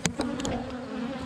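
Honeybees from a caught swarm pouring out of a hive, a close, steady buzzing drone with a few sharper passes as individual bees fly by.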